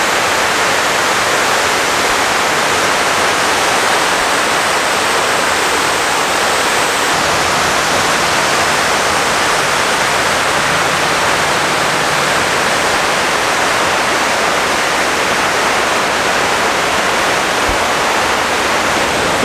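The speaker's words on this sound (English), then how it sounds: "Like you hear the sound of the water." Steady, dense rush of water flowing in the 9/11 Memorial fountain at Ground Zero, loud and close, a continuous splashing roar with no voices over it.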